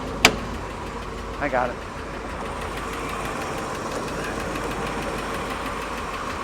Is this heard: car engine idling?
yes